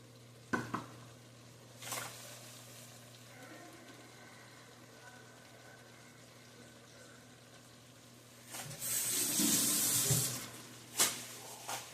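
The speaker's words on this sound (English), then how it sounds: "We're going to go ahead and mix that up." Stirring Rotel tomatoes with their juice into a pot of homemade beef chili, with a couple of light clinks early and a longer wet scraping and sizzling stretch near the end, close and moderately loud.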